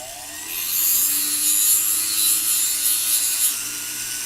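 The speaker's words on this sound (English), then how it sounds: "So go back on the sander." A sander works a wooden box clasp, giving a steady, close, high-pitched abrasive whir with slight rhythmic variation that runs for several seconds, with no talk.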